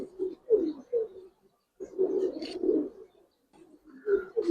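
Giribaz pigeons coo in short, repeated bursts, close by, with pauses between the calls and faint higher chirps over the top.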